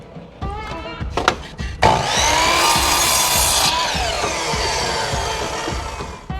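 A power saw cuts a piece of scrap wood to length: a few short taps and starts, then a loud, steady whining cut lasting several seconds close by, its pitch dropping as the blade runs down.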